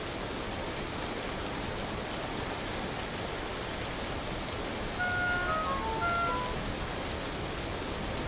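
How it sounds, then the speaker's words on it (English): Hail falls in the video game Vintage Story as a dense, steady patter of rain-like drumming, with a brief melodic chime rising over it partway through. "sound of being bludgeoned to death by hail, it's fine."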